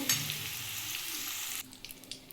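Paneer cubes frying in hot oil give a steady crackling sizzle that cuts off abruptly, leaving a few faint clinks and pops.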